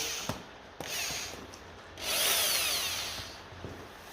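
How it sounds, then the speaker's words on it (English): A power drill whirs in short bursts, then runs longer with a rough rubbing, grinding tone as it polishes a metal part of a 1953 Lucas D3A4 distributor, fairly quiet and close. "Little polish with the drill should do the trick nicely."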